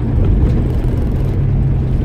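A 1969 Ford Mustang's 351 cubic inch engine accelerates, rumbling loud and low, close by and steady, with a deep throaty drone throughout.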